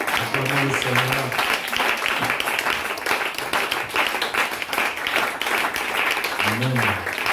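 A church congregation applauds steadily throughout, dense clapping filling the space, with brief sung or chanted voices near the start and end.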